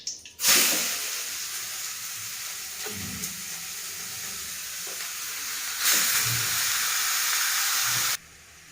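Grated carrots for carrot halwa sizzle in hot oil with a bay leaf in a pan, a loud steady hiss that surges when stirred, with occasional scraping and clinks of the utensil.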